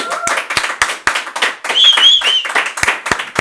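Studio audience of a Peruvian talk show clapping steadily with sharp, close individual claps, with a few whoops rising over them partway through.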